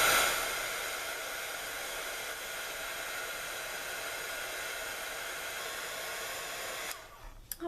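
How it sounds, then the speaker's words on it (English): A heat tool drying ink on cardstock blows a steady, loud, hissing whoosh for about seven seconds before it shuts off with a few faint handling knocks. "so for this one I think I might try to give it a shot with the heat tool"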